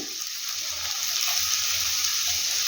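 Vegetables including cabbage and tomato fry in a pan for a veg roll, giving a loud, steady, close hiss of sizzling that stays even throughout with no talking.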